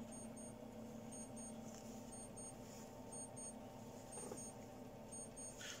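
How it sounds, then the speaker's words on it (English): Faint distant electronic alarm beeping in regular paired pulses about once a second, thin and high, heard over low room hum with no talking. "I can hear an alarm going off"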